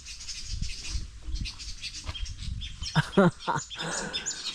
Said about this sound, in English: Oh, we had birds here.